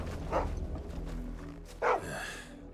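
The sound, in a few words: dog barking in the video game Final Fantasy XVI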